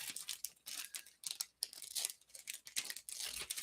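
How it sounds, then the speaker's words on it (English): Scissors trimming material, a run of short snips, crinkles and rustles in uneven bursts with brief pauses, close and fairly quiet. "I'm going to take a pair of scissors"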